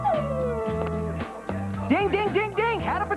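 A dog in a TV commercial howls and yips with rising, wavering cries over a background music bed, close and fairly loud.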